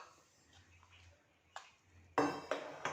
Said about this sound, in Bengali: শুকনো উপকরণগুলোকে ভালো করে মিশিয়ে নেব